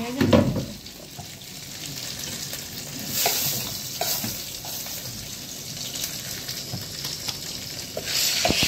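Broth goes over rice in a hot pan, producing a loud burst of sizzling followed by steady bubbling hiss and repeated stirring scrapes, close and without speech.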